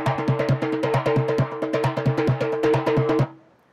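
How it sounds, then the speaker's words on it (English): Junkanoo lead drum from the Bahamas, a hand-struck goatskin drum played in a fast, driving parade rhythm of repeated sharp hits, close and loud, stopping abruptly near the end with a short ringing decay. "you would hear probably a lead drum starting off the parade"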